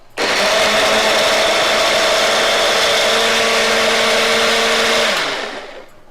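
A personal blender purees tomatoes with a steady, loud whirring motor. The whir runs continuously for about five seconds, then spins down and stops.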